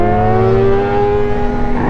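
Motorcycle engine revving hard on a road, a loud close whine with strong steady harmonics that holds high pitch then eases slightly, alone without talk.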